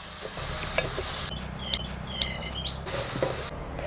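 Three sliced onions in hot oil in a pan, sizzling softly while being stirred, with a few scraping strokes in the middle. Up close and moderately quiet, with no talking.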